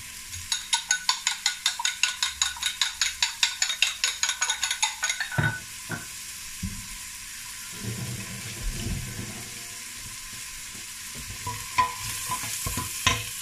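A fork beats an egg beside onions frying in a pan for Asian-style stir-fried vegetable noodles, making a quick, rhythmic run of clicking whisk strokes for about five seconds, then soft sizzling and scattered kitchen clatter.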